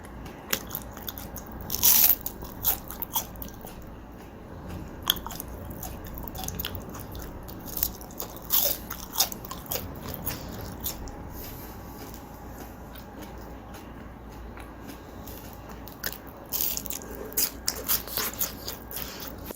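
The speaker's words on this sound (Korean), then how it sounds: "맛있게 튀겨진 감자튀김을 이제 제가 한번 먹어볼게요." Crispy French fries with ketchup are bitten and chewed up close, sharp crunches repeating irregularly between quieter stretches of soft chewing, with no talking.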